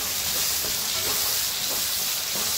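Chicken sizzling in a pan as tomatoes go in, a loud, continuous close hiss of frying with soft stirring bumps underneath.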